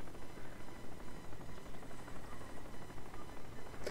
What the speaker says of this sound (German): Nein, nicht schon wieder ein Helikopter.